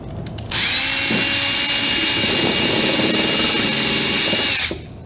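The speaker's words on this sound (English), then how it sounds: "now what we're gonna do is we're gonna drill our middle hole" A power drill with a step drill bit spins up sharply, holds a loud high-pitched whine for about four seconds, then winds down while drilling a hole; a few faint clicks come before it.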